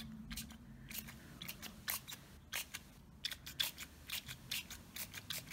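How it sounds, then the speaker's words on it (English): Spray bottle spritzing chartreuse color onto paper during selective coloring, a series of short, crisp hissing bursts in an irregular rhythm, close and fairly loud with no talking. "Give that another spritz."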